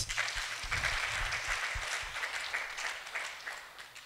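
A church gathering applauds, with dense, continuous clapping from many hands that stays fairly even before easing slightly toward the end, heard at a moderate distance without speech over it.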